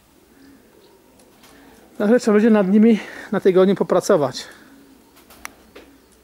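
Pigeons coo softly in a loft during a trial flight of young birds, with someone talking loudly over most of it and faint cooing underneath.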